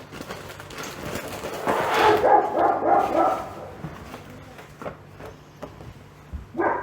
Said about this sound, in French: il y a concerto pour chien dehors.